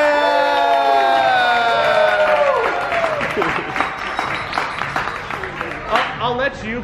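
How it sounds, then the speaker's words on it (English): Children applaud and cheer together in a children's room at a birthday gathering, a loud burst of clapping with excited shouts and whoops that gradually thins out, with voices and chatter running through it. "Can you give them a round of applause?"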